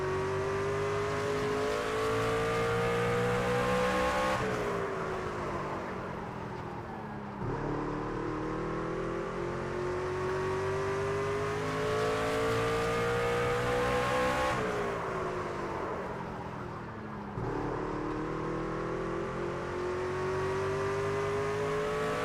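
A Craftsman Truck engine in NASCAR 25 at Martinsville, a loud continuous droning roar that swells and drops in repeating cycles as the truck powers down the straights and lifts for the corners, alone with no talking.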